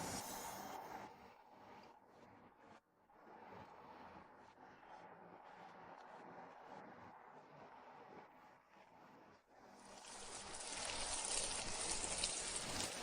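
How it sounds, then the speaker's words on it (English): Steady rain hisses throughout, then swells into a heavier, louder downpour toward the end. "It's raining."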